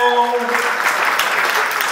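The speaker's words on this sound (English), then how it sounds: "The clapping is not going to cost money." An audience at a foundation dinner breaks into applause, a dense, steady patter of many hands clapping close by that lasts the whole moment, with a voice heard briefly at the start.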